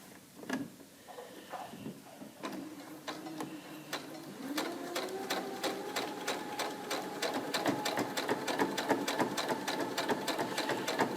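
A sewing machine stitches a fabric mask, starting with a few hesitant starts and soft handling sounds, then settling into a steady, rapid mechanical clatter of stitches that runs to the end, quiet and close.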